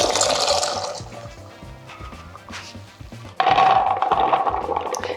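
Water pours and splashes as soaked chickpeas and kelp are drained through a strainer in a kitchen, a gurgling flow that eases off and then surges loudly again near the end.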